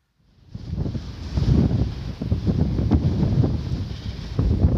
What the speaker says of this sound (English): Or are you just grounded because of this wind? It's very windy.